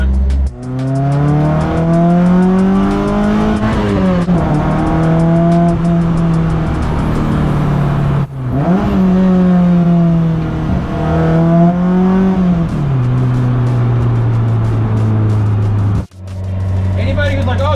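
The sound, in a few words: race car engine revving while driving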